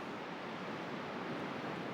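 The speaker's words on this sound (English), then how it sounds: "In the distance, there are waterfalls" Distant jungle waterfalls produce a continuous, even roar of broadband rushing water, steady and unbroken throughout, with no other sounds standing out.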